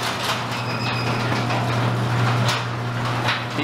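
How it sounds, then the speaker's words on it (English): A garage door closing: a steady mechanical hum and rumble with light rattling runs throughout at moderate level, with no speech. "Garage door closed."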